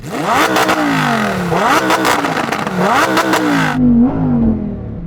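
A Lamborghini Huracan Performante V10 revs hard in repeated rising sweeps, loud and close, then the high-pitched roar cuts off and a lower, softer tone holds to the end.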